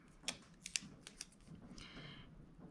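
Scissors cut planner sticker paper in a few close, crisp snips, followed by a brief soft rustle, in a quiet room.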